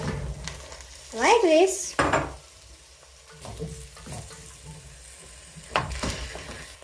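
Potatoes and onions sizzle in a pan, with stirring and scraping across the cooking surface, while a voice talks briefly over the frying.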